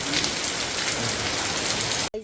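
Heavy rain pours onto a temple still under construction with an open upper section, a dense steady roar of drops that cuts off abruptly just before the end.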